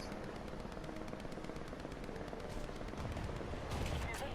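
Artillery and gunfire in the War Thunder tank game, a dense continuous barrage of rapid cracks and booms that stays loud and steady throughout, with a heavier burst near the end.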